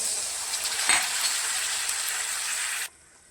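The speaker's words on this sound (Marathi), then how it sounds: "त्याला एक ग्लास पाणी ओतून देऊ" Hissing, bubbling sizzle as a glass of water is poured into a hot pan of frying capsicum, cutting off abruptly into silence near the end.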